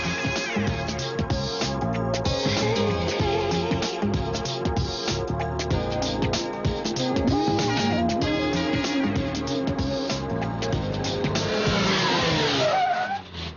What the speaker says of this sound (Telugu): ఏంట్రా అంత సడన్ గా బ్రేక్ వేసావు?